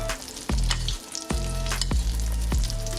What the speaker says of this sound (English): start basting it in that butter